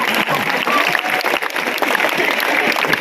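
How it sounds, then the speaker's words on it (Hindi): A crowd at a Hindi poetry recital for the Kajli Teej festival in Bundi, 2022, claps in dense, continuous applause that stays fairly loud for the whole stretch. "तालियां बजा दीजिए आप"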